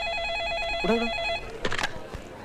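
An electronic telephone ring warbles in a rapid trilling pattern, cut short as a handset is picked up with a clatter.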